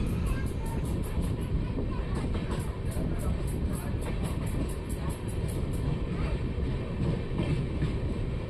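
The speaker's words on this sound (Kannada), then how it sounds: "ಐದು ನಿಮಿಷ ಹಾಲ್ಟ್ ನಂತರ ನಮ್ಮ ಟ್ರೈನ್ ಅರಸೀಕೆರೆ ಜಂಕ್ಷನಿಂದ ಹೊರಟಿದೆ." A train pulls out of Arsikere Junction after a five-minute halt, its steady low rumble and rolling rail noise continuing throughout, with a rapid series of faint high ticks in the first few seconds.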